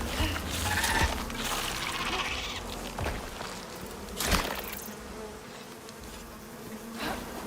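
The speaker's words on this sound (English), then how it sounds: "Come here, bees." Bees buzz continuously in the survival video game Icarus, a loud, dense drone that swells and fades in close passes with no talking.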